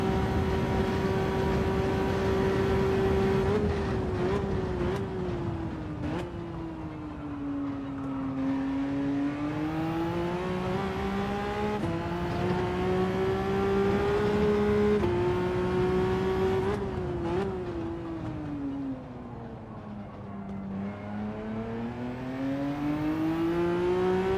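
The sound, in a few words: race car engine revving in Gran Turismo 7, a video game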